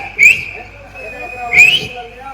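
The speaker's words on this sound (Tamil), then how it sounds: "பங்காளிகளா போடுங்க பங்காளியா ஒரு விசில" Sharp, shrill whistles from people, two quick bright blasts about a second apart, rising over a low murmur of crowd noise.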